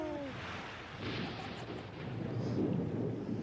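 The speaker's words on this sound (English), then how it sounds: "You know, Minus, I'm not afraid of the thunder." Rolling thunder rumbles low and steady through a rainy storm at sea, swelling louder toward the end; a brief voice-like tone sounds at the very start.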